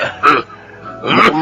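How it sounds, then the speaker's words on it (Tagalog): Two harsh, rasping coughs from one person a second apart, each a short throaty burst with a quiet pause between, close and fairly loud with no talking. "masama na yung ubo mo."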